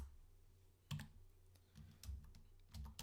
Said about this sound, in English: Pardon the clicky-clacky keyboard.